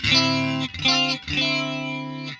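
Clean electric guitar tone through a modulation effect in AmpliTube 5: three sustained strummed chords ring out one after another with a gentle wavering shimmer, played alone.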